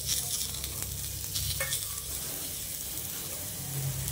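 Chopped onions fry in a pan with a constant close sizzle and a few quick stirring scrapes early on, then settle into an even hiss; no one speaks.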